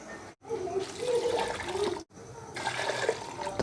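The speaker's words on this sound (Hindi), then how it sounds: "पानी डालते हैं।" Water poured into a cooking pot of black-eyed beans with ginger-garlic paste and chopped green chillies: two rushing, splashing pours separated by a brief pause, moderately quiet and without talk.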